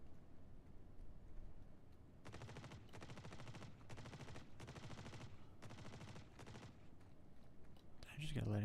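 Video game Star Citizen automatic gunfire, several rapid bursts of repeated shots, each lasting about half a second, fairly close and separated by short pauses, followed by a louder impact near the end.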